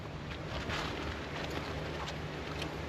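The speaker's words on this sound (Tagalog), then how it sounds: "Lakas ng hangin." Steady, roaring wind buffets the microphone with a constant broadband rush and low rumble, gusting slightly throughout.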